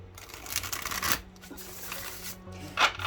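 Crisp riffling of a Steampunk Lenormand card deck being shuffled and bridged, a fast fluttering rush repeated a few times with a soft cascade as they settle, close and fairly quiet.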